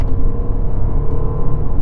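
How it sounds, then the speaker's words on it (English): Audi Q7 diesel SUV accelerating, a loud, close, steady low engine rumble and road drone heard from inside the cabin with no talking. "Enough grunt from the diesel engine."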